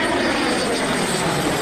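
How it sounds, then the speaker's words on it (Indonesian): A fighter jet flies in the video game Jurassic World Evolution 2, a loud, continuous aircraft engine roar that fills the whole moment at a steady level with no break. "yang ini pesawat tempur."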